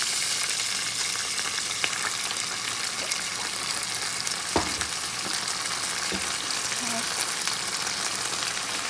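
Vegetables and chicken sauté in a pan as soy sauce and hot sauce go in, making a steady loud sizzle with a few sharp clinks and scrapes.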